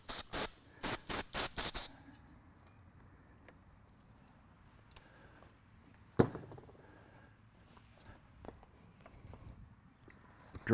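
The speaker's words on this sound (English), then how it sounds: "I use brake and parts cleaner first." Several quick bursts of aerosol brake and parts cleaner are sprayed onto aircraft spark plugs, up close. A run of short hissing blasts comes first, then quiet handling clicks and a single sharp knock.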